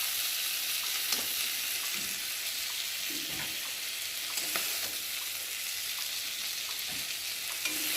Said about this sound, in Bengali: বন্ধুরা চিংড়ি মাছগুলো ভাজা ভাজা হয়ে গেছে